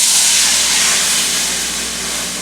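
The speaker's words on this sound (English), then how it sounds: "Add the remaining 3 1/3 cups milk to the pan." Milk, three and a third cups, poured into a pan for a chicken and broccoli casserole sauce, giving a steady, fairly loud hiss that fades slightly over a couple of seconds with no talking.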